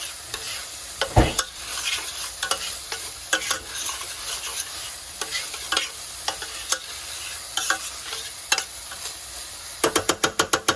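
Food being sautéed in a pan while paneer waits to go in: a steady broadband sizzle with repeated sharp scrapes and taps of a stirring utensil, and a quick run of rapid clicks near the end, no talking.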